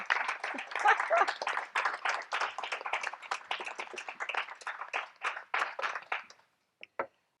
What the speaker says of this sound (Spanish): Ahí la aplaudimos